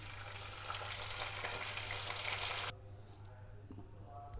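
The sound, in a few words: tempering spices sizzling in hot oil in a pan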